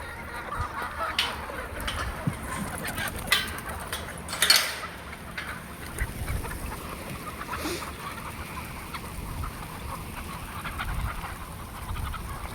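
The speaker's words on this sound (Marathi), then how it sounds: "सगळ्या कोंबड्या आता गेटकडेच पळणार आहेत." Chickens at feeding time crowd and run toward a gate, a constant cluck and honk-like chatter of many birds at middle distance, with scattered louder calls and rustling.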